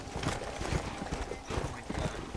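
Hooves of a horse in the video game Red Dead Redemption: Undead Nightmare pound rapidly in a galloping rhythm, close and steady, with a brief whinny mixed in and muffled noise beneath.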